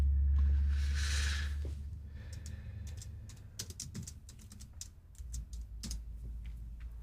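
Someone types on a computer keyboard in a quiet room, a steady patter of light clicks spread through the clip, with faint low hum underneath.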